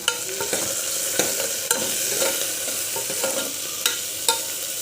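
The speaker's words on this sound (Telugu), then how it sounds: "కరివేపాకు ఇలా వేసుకుంటే ఇప్పుడు వేగి వేగిపోయినాయి కదా చూడండి" Curry leaves sizzle and crackle in hot oil while a spoon stirs a tempering for gongura dal, giving a steady close frying hiss broken by sharp clicks of utensil against pan.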